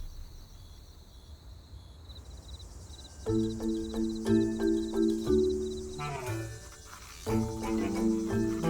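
Insects chirp in the desert at night, a soft high buzzing carried over steady rhythmic pulses of cricket-like trilling. The calls repeat in even bursts, close and moderately loud, and no voices are heard.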